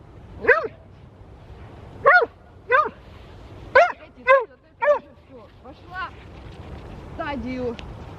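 A dog barks in short separate bursts while out on a walk, with several yaps spaced over a few seconds and a whimpering whine near the end, fairly close, over soft outdoor background noise.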